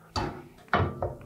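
Small metal door of a Monterme wood stove in an abandoned furnished house swung shut, giving two close, sharp clanks with a lighter rattle after, heard alone.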